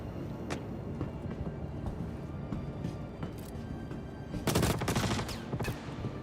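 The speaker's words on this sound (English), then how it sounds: "They're having a firefight." Gunfire in a firefight in the video game Star Citizen: scattered shots crackle at a distance, then a dense, loud volley of overlapping bursts rattles past midway, with a few more sharp reports after.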